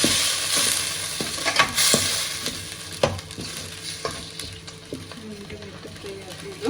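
Tomatoes frying in a pan with garlic paste for crab sukka, a steady sizzle broken by scraping stirs and clanks of a spoon against the pan, with faint background voices.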